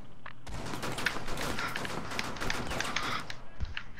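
Rapid pistol gunfire in a first-person shooter, a dense run of close, sharp shots fired steadily one after another over a constant background din.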